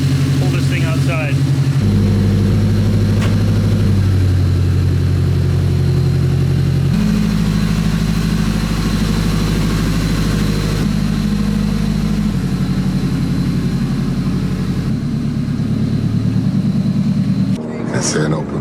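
A Nissan with an SR20 engine is driven outside, its engine droning loud and close throughout as it shifts pitch through gear changes. A voice is heard briefly near the end.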